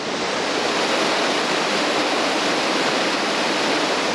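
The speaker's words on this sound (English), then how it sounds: "I'm on the Carey Burn, this beautiful waterfall" A waterfall on the Carey Burn near Wooler, Northumberland, roars with a continuous broad hiss of rushing water, steady and close, no voices or other sounds.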